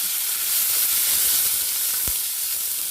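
Curry leaves and a chili hit hot oil in a pan for a Karnataka-style paruppu podi rice, giving a steady bright sizzle and hiss with a brief pop near the end.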